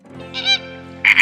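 Flamingo calls in two short honking, duck-like bursts, the first a nasal cry and the second a louder, harsher pair near the end, with no voices.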